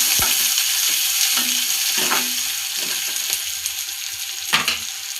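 Curry leaves dropped into a pan of softened onions for a semiya dish hiss with a loud, continuous frying sizzle, punctuated by occasional clicks and scrapes of stirring close by.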